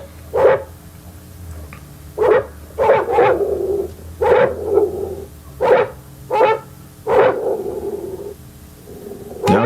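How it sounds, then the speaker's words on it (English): A dog woofs and growls as it enters a space, giving repeated short barks in a steady series, fairly close and loud, with a low hum in the background. "he's woofing and growling as he comes into the space"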